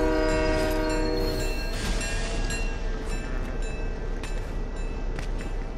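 A train in the Fortnite video game rumbles steadily along, with a long sustained horn tone at the start and scattered metallic clanks over continuous rolling noise.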